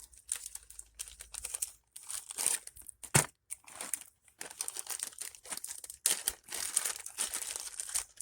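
Parchment paper crinkles and rustles as it is handled during resin jewelry crafting with wood bezel necklaces, in irregular close crackling bursts with brief pauses and one sharper crunch.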